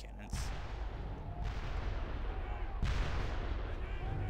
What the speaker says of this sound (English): Finally we can hear the freaking sounds of cannons